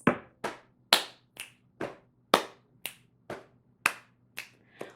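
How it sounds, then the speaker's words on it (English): Body percussion played in a repeating pattern of pat, clap and finger snap, about ten crisp close hits at a steady, even pulse with no voices. "I'm also going to add a body percussion part, and that's going to be a pat, a clap, and a snap."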